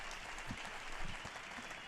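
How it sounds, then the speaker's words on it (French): Crowd applause at the World Youth Day 2023 welcome ceremony in Lisbon, a faint, distant wash of many hands clapping, steady and even throughout the brief moment. "Encore une fois, applaudissons-les."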